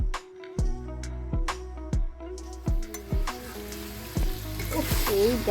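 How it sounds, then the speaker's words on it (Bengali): Food frying over a wood-fired stove, a steady sizzle broken by repeated thuds and scrapes of a utensil stirring the pan, ending in a denser, louder hiss. "তো এই করে আমি কাঠের জালে রান্না করছি"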